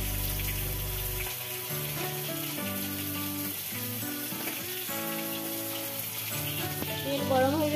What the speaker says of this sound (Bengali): গ্যাসে হাঁড়ি বসিয়ে দিয়েছি হাঁড়িতে দেব সরষে তেল